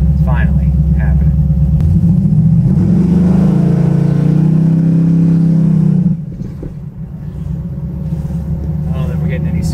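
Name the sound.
Buick Regal street car engine revving on test drive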